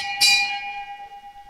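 A single bell strikes once at a lawn bowls state championship to signal the last end, a bright clang followed by a long clear ringing tone that slowly fades.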